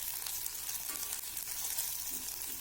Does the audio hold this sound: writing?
no